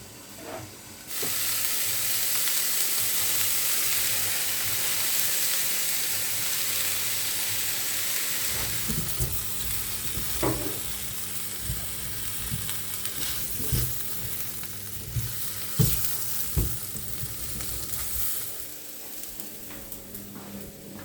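Steady loud sizzling of broccoli frying in a hot pan, with occasional scraping and stirring clatter from a utensil, no voices.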